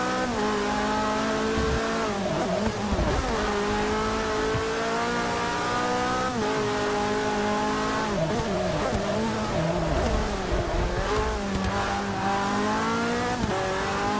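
A race car engine in Forza Motorsport 6 at Sebring International Raceway in the rain, loud and close. The motor holds a steady high drone, then repeatedly drops and climbs again as the car lifts off and accelerates through shifts.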